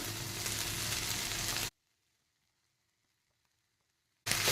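Chilli peppers sauté in a pan with onions and tomatoes added, a loud sizzle that cuts out into near silence for a few seconds and then bursts back in.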